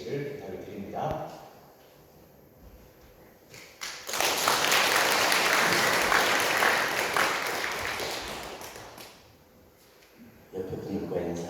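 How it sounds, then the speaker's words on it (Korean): A church congregation at a revival meeting breaks into loud, warm applause to welcome the pastor. The clapping swells after talk, holds for about five seconds, then fades back under speech. "우리 목사님 나오실 때 뜨겁게 박수로 환영해 주시기를 부탁을 드립니다."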